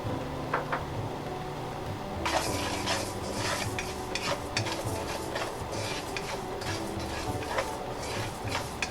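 White rice is dry roasted in a pan, a busy dry rustle and scrape of grains being stirred with a spoon, quiet at first and then louder and continuous with rhythmic clinks against the metal.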